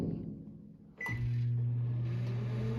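A microwave oven melting soft plastic bait worms clicks on after a brief rattle and settles into a steady, low electrical hum, close and even.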